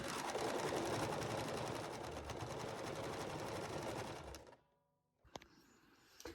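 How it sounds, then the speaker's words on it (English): A sewing machine stitches fabric squares together along a narrow seam for a beginner prayer-square project, running in a steady, close, whirring rhythm for about four seconds before stopping abruptly, followed by quiet handling clicks. "then we are going to sew these together, making sure the middles line up"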